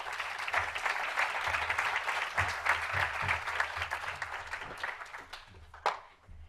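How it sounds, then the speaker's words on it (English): A live audience at a summit talk on Deaf culture and voting access applauds steadily and loudly for several seconds, with the clapping thinning and fading toward the end. "Let's give her one more round of applause"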